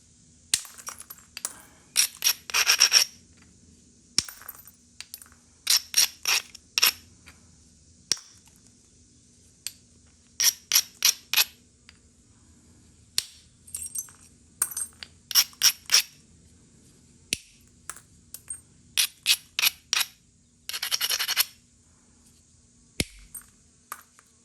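Thinning flakes are struck off a hornstone piece during flintknapping: sharp, ringing clicks and taps come in short clustered bursts with pauses between, close and crisp against a quiet background.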